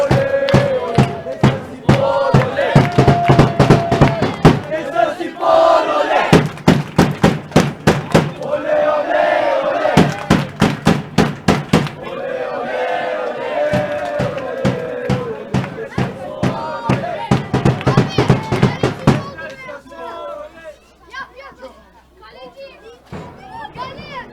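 Football stadium crowd cheers and chants near the end of a match, loud rhythmic chants with clapping bursts, then fading into lighter crowd noise toward the end.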